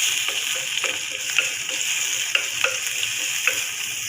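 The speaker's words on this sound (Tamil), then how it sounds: "கடுகு பொரிஞ்சது நம்ம இடித்து வச்ச பூண்டை போடுறோம். நல்லா வதக்கணும்." Crushed garlic frying in oil with popped mustard seeds for a Kovai-style poondu kulambu, a close, steady sizzle with scattered sharp pops and light stirring scrapes.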